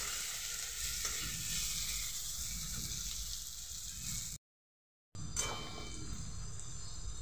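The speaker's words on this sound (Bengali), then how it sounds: "পেঁয়াজগুলোকে সুন্দরভাবে ভেজে নেব।" Small chopped onions fry in a kadai with a steady, dense sizzle, close and continuous, broken by a brief silent cut before the crackling sizzle resumes.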